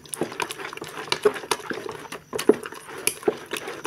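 A utensil stirs and clinks against a bowl of blueberry ice cream mixture made with sweetened condensed milk, giving soft scraping with a few sharp clinks, close up and with no talk.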